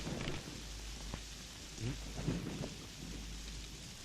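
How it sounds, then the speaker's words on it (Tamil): Heavy rain pours steadily while low thunder rumbles and rolls in the distance, swelling in a couple of deeper bursts over the constant downpour. "மழை இப்படி பெஞ்சிட்டு இருக்குதே."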